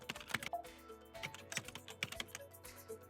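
Soft, irregular clicks of typing on a computer keyboard, close but quiet, with keys tapped in short uneven bursts and no voice.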